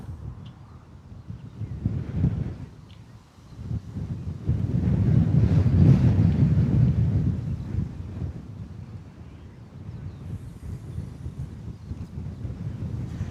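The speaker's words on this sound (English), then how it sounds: "Feels like the wind is dying down a little bit gusty every now and then, just like now." Gusty wind at an airport buffeting the microphone, a low rumbling roar that swells to a strong gust in the middle and then eases back, with no talking.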